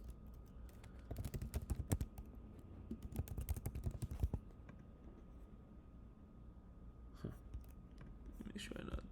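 Password typed on a computer keyboard: a quick run of close, light key clicks for several seconds, then a pause and a few more taps, all soft under a quiet room hum.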